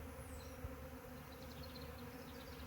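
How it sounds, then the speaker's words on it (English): A swarming honeybee colony pours out of its hive, a faint, even buzzing drone of many bees filling the air continuously, heard from a short distance with no talk. "This is what a swarming hive looks like. Bees just come pouring out."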